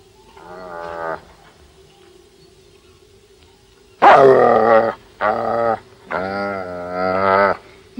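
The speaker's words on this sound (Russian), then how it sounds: "Собака у вас хорошая, Наташа." Dog barking and growling in a Russian rural yard, a faint bark early, then a loud cluster of several deep, harsh barks up close in quick succession.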